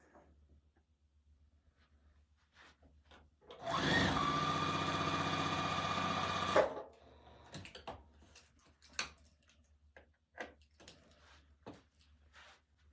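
Sewing machine stitching the tops of barn quilt blocks made of half square triangles: one burst of steady motor whirring lasting about three seconds, close and clear, followed by quiet handling clicks and fabric rustle.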